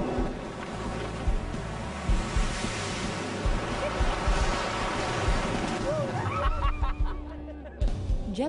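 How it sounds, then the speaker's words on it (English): A jet boat speeds along a shallow New Zealand river, giving a loud, continuous rushing roar of water and wind that stays dense throughout and thins near the end, with voices faintly audible. "Riding in a jet boat is a special experience."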